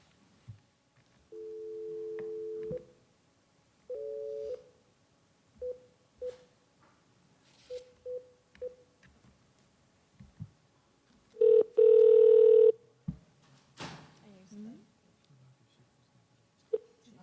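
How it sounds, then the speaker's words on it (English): A telephone calls back into a school board workshop meeting, sounding as a series of steady electronic tones: two long held tones, several short repeated beeps, then a loud sustained tone near the end, with room noise between. "we're gonna allow Nancy to call Dr. Schiff back here."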